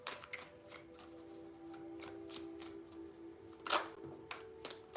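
Tarot cards are shuffled by hand, a run of crisp riffling and slapping strokes with a louder burst near the end, close and quiet with no talking.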